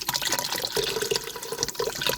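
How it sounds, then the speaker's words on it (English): Vegetable broth poured steadily into an Instant Pot, a continuous close liquid splash and glug lasting the whole short stretch, with no talk. "I'm going in with some vegetable broth because that's what I have on hand"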